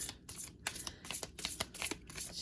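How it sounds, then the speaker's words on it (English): Tarot cards being shuffled by hand, a continuous papery riffling and flapping at close range with rapid irregular bursts, fairly quiet overall and with no talking. "a third shuffle for pile 2"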